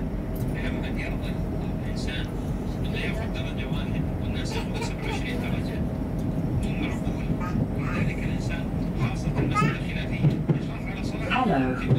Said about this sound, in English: welcome on board this lner Azuma to London King's Cross